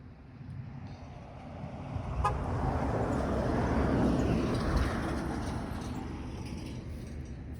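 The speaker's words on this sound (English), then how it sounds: "we do have a big tractor trailer coming up" A big tractor trailer passes on a road during dog training, its engine rumble swelling from the distance to a loud peak and then fading away, with a short horn toot early on.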